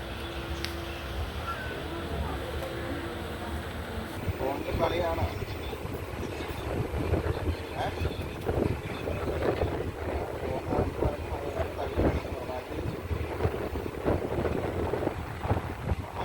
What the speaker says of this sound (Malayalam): ചേർത്തലയിൽ നിന്നും ട്രെയിൻ എടുക്കുകയാണ്.